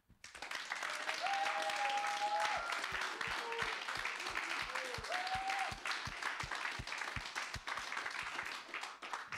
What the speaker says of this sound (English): Really, I think you all deserve the big applause again.